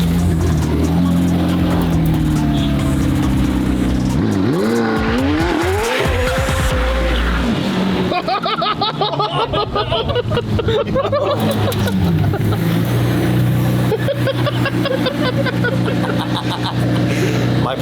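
A carbon McLaren Senna in race mode revs loudly up close, its engine note climbing and then breaking into a harsh, dense roar with tire noise, while excited voices shout over it.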